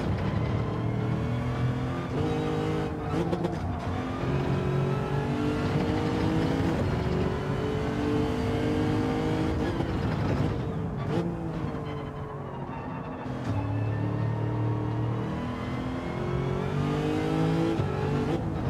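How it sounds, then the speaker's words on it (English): A race car engine in Gran Turismo 7 roars continuously, shifting through gears with rising and falling pitch sweeps, steady and loud with no talk. "This car sounds so good too"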